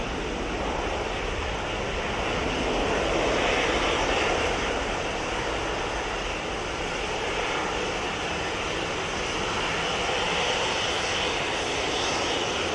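A TUI airliner passes at Manchester Airport with a loud, broad jet roar that swells a little early on and then holds strong and constant throughout.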